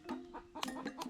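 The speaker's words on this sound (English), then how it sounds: "This is a chicken which has been disturbed. I don't know why. It's making a lot of noise." A disturbed chicken clucking in a village, sharp, agitated clucks in a rapid uneven burst, fairly faint and with no other sounds.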